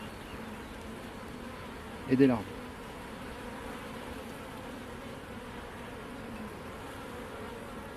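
Honeybees buzzing steadily around brood frames of an open hive, a constant low hum throughout, with a brief spoken phrase in French partway through.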